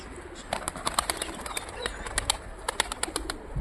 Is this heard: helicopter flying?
no